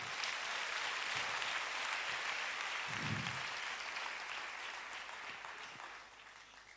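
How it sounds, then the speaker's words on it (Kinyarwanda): A church congregation applauding, a dense, even wash of many hands clapping together that holds steady and then tapers slightly near the end, with a brief low vocal sound partway through. "Komera Imana amashyi."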